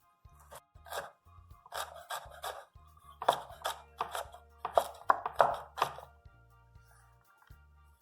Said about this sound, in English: And the green onion, I kind of slice it down the center and then I chop it.